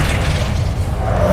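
Flipendo spell cast in Hogwarts Legacy, a short, dense boom with a rumbling low body and a faint whooshing edge, loud and continuous for just over a second.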